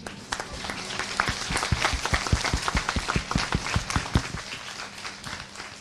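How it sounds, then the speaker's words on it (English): A lecture audience claps at the close of a talk on videogames, starting thin and building to dense applause with distinct sharp claps in quick rhythm before tapering off, heard from a modest distance. "Now you can clap"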